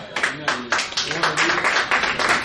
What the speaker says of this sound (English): let's give a round of applause for Judai